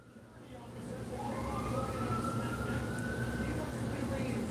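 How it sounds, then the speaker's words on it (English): A siren wails steadily in the distance, rising slightly, over a constant roar of traffic and wind noise. "Let the car go with the sirens"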